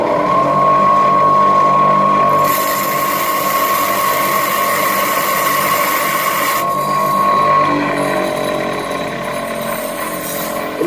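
Drill bit grinder running steadily with its wheels spinning, a sustained whirring tone with a loud, even motor drone that shifts in texture partway through as the bit is pressed against the wheel.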